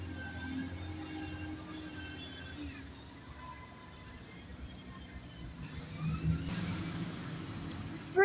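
A bus passing on a street in Mansfield, a steady mid-pitched engine rumble that swells and fades over several seconds, heard at a moderate distance with traffic noise around.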